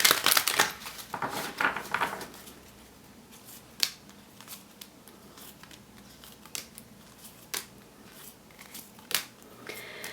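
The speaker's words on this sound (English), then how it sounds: "Okay, one more shuffle." Tarot cards are shuffled up close in a brief papery riffle, followed by scattered soft taps and flicks as cards are handled.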